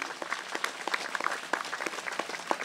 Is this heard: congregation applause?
yes